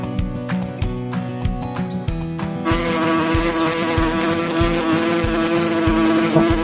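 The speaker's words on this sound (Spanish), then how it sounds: "Avispa." A wasp buzzes in a continuous steady drone that starts a third of the way in and holds to the end, close and fairly loud over rhythmic background music.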